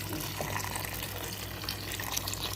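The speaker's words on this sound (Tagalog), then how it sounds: "Saka ko siya lagyan ng tubig." Water pours in a steady gush into a cooking pan of tomato and chana dal, a brief, continuous splashing stream with no voices.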